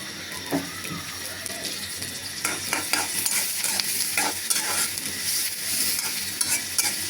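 Onions tossed into a hot pan for a loitta fish curry, sizzling and frying while a utensil stirs and scrapes in uneven bursts, close up with a faint voice in the background.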